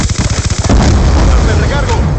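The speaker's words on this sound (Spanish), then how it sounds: "¡Granada! ¡Muévanse!" Grenade explosion in Call of Duty Black Ops II, a loud close blast cutting off rapid gunfire and leaving a sustained rumbling roar afterward.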